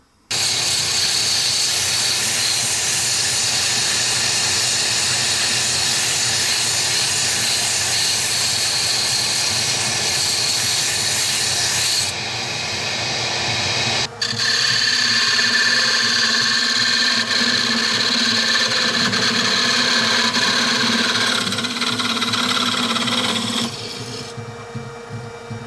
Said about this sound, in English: I'm going to give this a good sanding